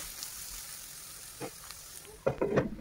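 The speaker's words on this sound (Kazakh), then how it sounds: "Ендіше сәбіз салып, оны да жақсылап қуырамыз." Quiet background sizzle, then a burst of louder frying crackle as carrots hit or are stirred in the hot pan.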